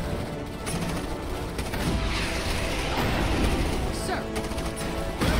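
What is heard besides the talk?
gunfire from troopers in the video game Starship Troopers Terran Command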